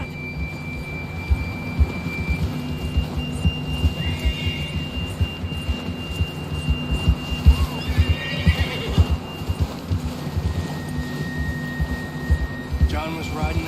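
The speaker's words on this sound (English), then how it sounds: "John was riding that horse when we left Blackwater." A horse in the video game Red Dead Redemption 2 gives a clear, shrill whinny partway through, over steady hoofbeats and soft electronic tones, with a low murmur in the background.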